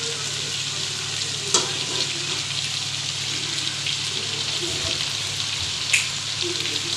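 Chicken frying in oil in a kadai, a loud, steady hiss and crackle of sizzling that runs throughout, with a couple of brief sharp pops and faint stirring noises.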